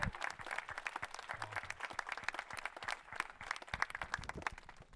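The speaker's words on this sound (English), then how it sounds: "Can we just give them a round of applause for what they've done for us?" Crowd applause at an outdoor political rally in Scott City, honoring law enforcement officers: dense, steady clapping from many hands, fairly distant and moderately quiet, continuing for about five seconds with no voices over it.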